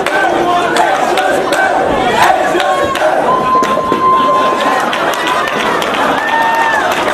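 A professional wrestling arena crowd cheers and chatters during a wrestler's match, a steady roar of many voices with scattered shouts and thuds, commentators talking over it.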